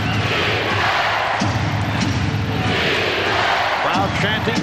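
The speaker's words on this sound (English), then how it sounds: "Crowd chanting defense." A basketball arena crowd at a 1992 NBA Eastern Conference Finals playoff game, Bulls versus Cavaliers, chanting defense as a dense, steady roar that fills the whole stretch, with a voice over it.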